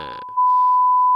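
A steady sine test tone from the Logic tone oscillator rings out alone, a pure, constant pitch holding loud and unwavering after a brief lead-in.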